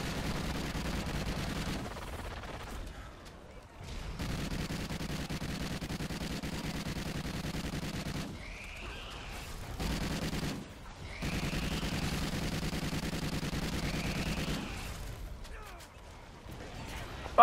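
Sustained automatic gunfire in the video game Call of Duty Ghosts Extinction, long steady bursts broken by brief pauses, with voices heard now and then.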